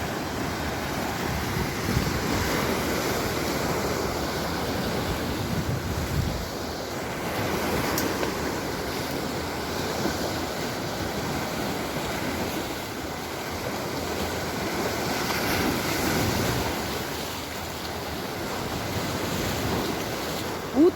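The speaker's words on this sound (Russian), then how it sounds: "Сегодня небольшой ветерок, поэтому волна посильнее." Waves breaking on a Mediterranean beach in a light breeze, a continuous wash of surf rolling in and receding with gentle swells in loudness, accompanied by steady wind rumble on the microphone.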